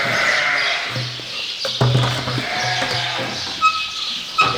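Sheep bleat in a sheep barn, with several drawn-out, wavering calls spread across the stretch, set against a busy background hum of the barn; no talking.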